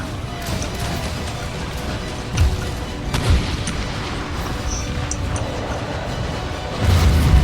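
Cannon fire in an Empire Total War battle in the Persia campaign: dull booms and thuds rise out of a dense, continuous battlefield din, with a heavier rumble near the end.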